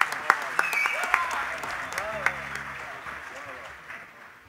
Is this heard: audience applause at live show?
yes